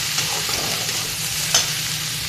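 Cabbage bhaji (patta kobi) being stirred and fried in a pan, a steady close sizzle with light scraping strokes of the spoon throughout, no voices.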